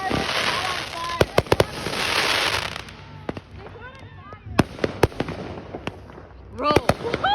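Fireworks that caught fire crackle and bang in sharp, loud bursts scattered through the clip, with a hissing rush and excited voices shouting in between.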